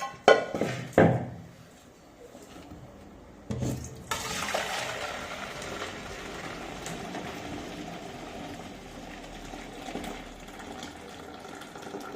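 Water pours steadily out of a pot of cooked rice into a drain or basin, a continuous splashing rush after a couple of brief clanks.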